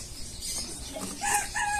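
A backyard hen clucks in short, rising calls toward the end, over a steady hiss of outdoor noise.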